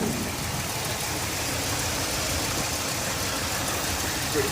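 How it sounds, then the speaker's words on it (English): A 1959 DeSoto Firesweep Seville engine idles with a steady, even rumble and hiss, its condition running slightly rough and shaky, with no talking. "Engine is still running, by the way."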